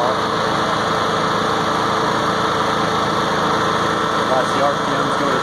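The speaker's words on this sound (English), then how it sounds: "this generator is barely louder than a regular conversation" A Honda EU7000is inverter generator engine runs at a steady, even drone throughout, fairly loud and close, with a faint ripple of vibration and no pauses.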